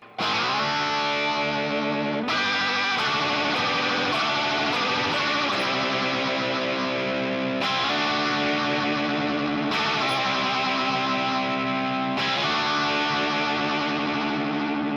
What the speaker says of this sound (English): The old Leslie speakers used to have a switch that would speed up the rotary speaker within the box.